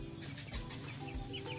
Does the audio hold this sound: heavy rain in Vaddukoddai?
no